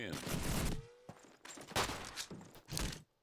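Bursts of machine gun fire and gunshots from a Call of Duty 2 match come in several sharp volleys, heard under a caster's commentary during an online tournament game.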